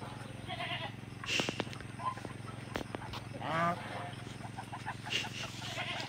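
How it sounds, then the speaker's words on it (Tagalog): Several goats bleat in short, separate calls, one louder and wavering, over a low background hum and some faint knocking. "ating mga kambing."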